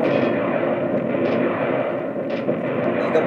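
Gunfire and explosions from the vehicle combat video game Return Fire come as a dense, continuous rumble of blasts and engine drone, with a few brighter bursts standing out.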